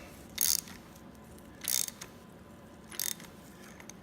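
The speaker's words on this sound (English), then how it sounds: "It's gotten tight, so I'll use my wrench to finish it up." A wrench tightens a part while an engine is being built: three short bursts of clicking ratchet action, each under half a second and spaced over a second apart, over a faint steady background hum.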